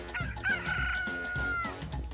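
A rooster crows once, close and loud, its long call standing out over farmyard background noise.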